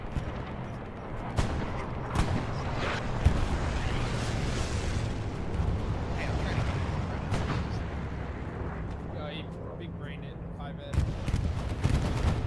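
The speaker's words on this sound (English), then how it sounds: "Bombing run. I would say that's on trenches to the north." Bombing run in the video game Hell Let Loose, with a string of booming explosions and scattered blasts rolling over a busy battlefield, heard under occasional player chatter.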